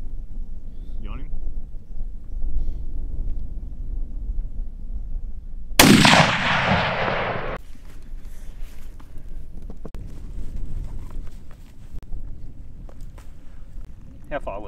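One loud, close 7mm Rem Mag rifle shot fired at fallow deer, a sharp crack that decays over about two seconds, standing out from steady wind and outdoor background noise.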